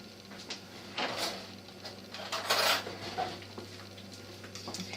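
Apple pieces tossed with citrus juice in a bowl, with soft clinks and scrapes of a utensil against the dish coming in short, irregular bursts over a low background hum.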